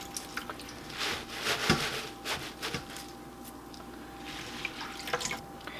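Water runs and splashes into a cooking pot of raw mustard greens, a faint irregular trickle with small drips and gurgles, fairly close and without speech.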